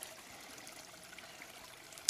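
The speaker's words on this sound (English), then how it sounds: "So I've come across a nice water source." Small water source trickling beside the Pacific Crest Trail, a faint steady babble and dribble running throughout, with a brief sharp knock at the very end.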